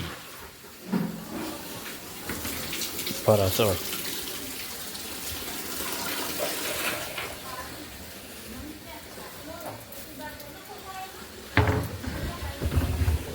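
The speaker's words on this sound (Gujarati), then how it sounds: "પાણી આવ્યું છે પાણી ભરાય છે" Water runs steadily from a tap with a constant hiss, while people talk intermittently and a few clanks and knocks sound nearby.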